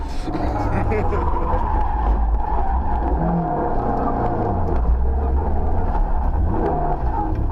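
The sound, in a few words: rally car skidding and spinning around in a corner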